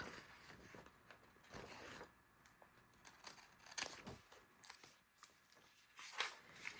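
Scissors trimming the edge of a sheet of paper at a craft table, with several close, crisp snipping and scraping cuts spread through the stretch, no voices.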